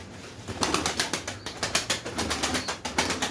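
Domestic pigeons, Kayseri breed breeding stock, in a loft with repeated bursts of wing flapping and clattering, close and fairly loud, in an irregular rhythm with no voices.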